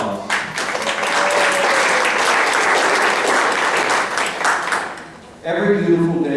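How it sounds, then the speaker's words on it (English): An audience at a community gathering gives a sustained round of applause, loud and dense for about five seconds before it fades and a voice begins. "So would you just give yourself a round of applause?"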